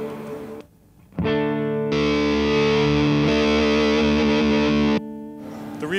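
A Southampton Pedals Indie Dream Overdrive pedal drives an instrument through a distorted tone. It plays a loud, sustained, fuzzy chord that rings for several seconds after a short lead-in, with no talking.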